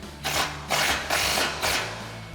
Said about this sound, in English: we'll tighten down these main mounting bolts to our chassis with our 13mm socket